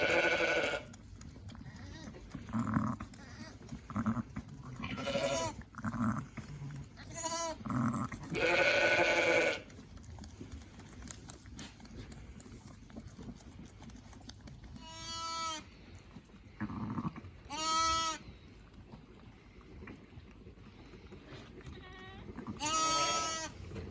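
Newborn lambs and ewes bleat on a farm during lambing, calling again and again from close by, some cries long and wavering and others short, with quieter stretches between them.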